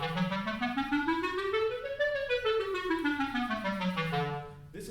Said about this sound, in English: if I play a 2-octave scale twice, it'll sound like this.